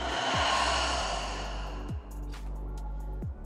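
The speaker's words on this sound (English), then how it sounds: "Open mouth, noisy exhale." A noisy, open-mouthed exhale during a guided meditation: one long, close breath rushing out, with soft breathy sighs following and no talking.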